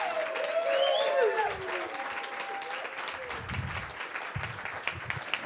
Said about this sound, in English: one big round of applause for Miss Zoe